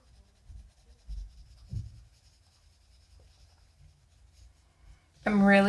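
A pencil colors a page by hand in a willow dryad coloring book, giving soft, intermittent scratchy strokes close up and quiet, followed by a brief louder voice at the very end.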